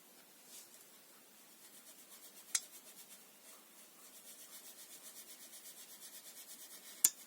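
A Gelatos water-soluble crayon is drawn across Canson paper in a soft, continuous rubbing scratch with faint rhythmic strokes and two sharper ticks, quiet and close.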